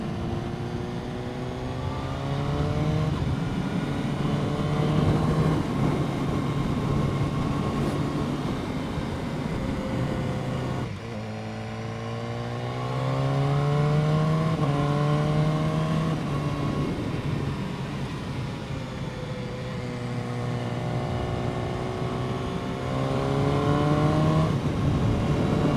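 A 2015 BMW S1000R motorcycle being ridden, its exhaust note rising through the gears and falling again across several runs, loud and close, with engine pitch sweeping up on each acceleration over steady wind and road noise, with no voices.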